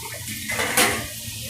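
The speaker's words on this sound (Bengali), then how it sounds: "ঢেলে দিয়ে একটু জল দিয়ে ধুয়ে নেবো, ঠান্ডা জল দিয়ে" Boiled chowmein noodles rinsed under cold water in a kitchen, a short rush of running water with a clatter of a metal vessel at its peak, near and moderately loud, without talk.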